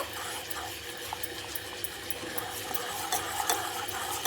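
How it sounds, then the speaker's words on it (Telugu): Soap base melting in a pot on the stove while a utensil stirs it steadily, giving a continuous soft scraping and bubbling texture with faint clinks, close and fairly quiet, no talking. "మంచిగా కలుపుతూ ఉడికించుకోవాలండి"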